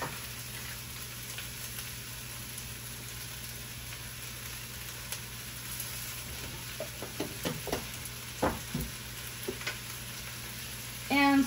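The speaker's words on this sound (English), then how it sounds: "throw the chopped pepper and onion in" Chopped pepper and onion sizzle steadily in a hot pan, with a constant frying hiss throughout and a few brief knocks and stirring clatters near the end.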